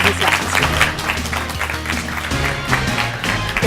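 Applause from a studio audience welcoming a guest holds at a steady level for the whole stretch, with music or a voice running underneath.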